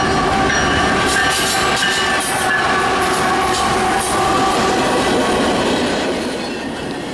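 Southbound passenger train X361, running as an extra to Cincinnati, passes through Glendale, Ohio. It rumbles loud and steady with clattering wheels and faint squeals, easing off slightly toward the end. No one speaks.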